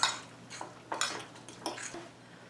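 A fork mixing wet ingredients for an Irish oatmeal cake in a bowl, giving a few faint clinking scrapes against the bowl in a quiet kitchen.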